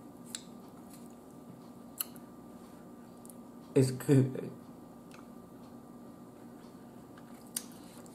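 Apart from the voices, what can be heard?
chewing and smacking while eating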